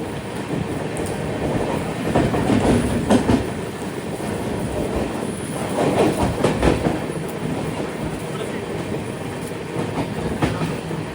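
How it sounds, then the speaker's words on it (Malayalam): Lokmanya Tilak–Ernakulam Duranto Express running through Thrissur railway station without stopping, a loud steady roar of wheels and carriages with rhythmic clickety-clack swelling and easing as the coaches pass close by. "ലോകമാന്യ തിലക് എറണാകുളം ദുരന്തോ എക്സ്പ്രസ് ഇതാ കേരളത്തിലെ ഏറ്റവും തിരക്കേറിയ railway സ്റ്റേഷനായ Thrissur railway station skip ചെയ്യുകയാണ്"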